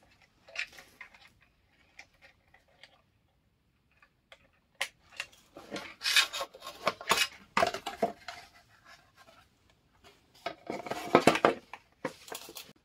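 Plastic shell of a balance scooter being fitted back on, giving irregular clicks, knocks and snapping sounds in scattered bursts, close and moderately loud, with no talking.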